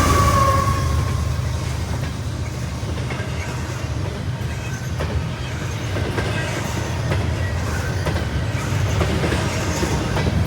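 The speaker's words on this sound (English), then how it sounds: "there was a CSX intermodal waiting for us right here" A CSX intermodal freight train rolls through Berea, Ohio, its wheels and cars giving a continuous rumbling clatter with rhythmic clicks over rail joints, close and steady throughout.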